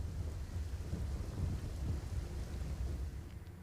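Heavy rain falls steadily over Ahmedabad, a dense continuous wash with a low rumble of thunder rolling underneath throughout, no voices present.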